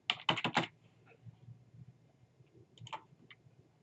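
Typing on a computer keyboard: a quick burst of several sharp key clicks, then quieter scattered taps and a second short cluster of keystrokes, close and fairly faint.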